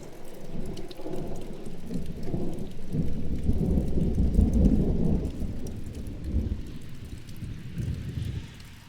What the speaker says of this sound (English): That was a really loud thunder and close.